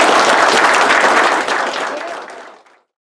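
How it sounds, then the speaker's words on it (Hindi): An audience at a Kargil Vijay Diwas commemoration gives loud, vigorous applause, a thick crowd of clapping that holds for over a second and then tapers off to silence. "नायक कारपेंटर उत्तम सिंह, उनके लिए हम जोरदार तालियां।"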